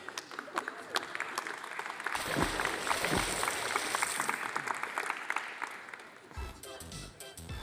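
Conference audience at a live real-time graphics demo bursts into loud sustained applause that swells and then fades, with talking before and after.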